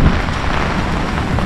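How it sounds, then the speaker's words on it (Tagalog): Heavy typhoon rain pours down in a dense, continuous hiss with no pauses, close and loud throughout. "Bagyo at ulan."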